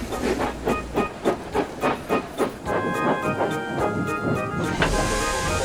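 Steam locomotive hauling trucks loaded with heavy, rusted steel as a drama sound effect: rhythmic chuffs of steam build into a hissing blast, then a long steam whistle sounds loud and near.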